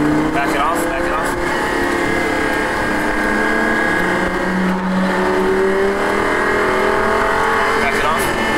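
A Lamborghini Gallardo accelerates on a race track, its engine note climbing and sliding in pitch under a loud, continuous roar, with an instructor's voice talking over it.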